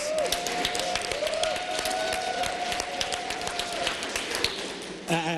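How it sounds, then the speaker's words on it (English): Residents applaud at a Cleveland City Council swearing-in ceremony, a thick, sustained round of crowd clapping with a faint tonal hum running through it, ending abruptly. "Ward 6, give yourself a round of applause."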